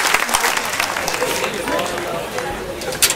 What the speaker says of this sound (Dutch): graag een groot applaus voor de lopers en de rijders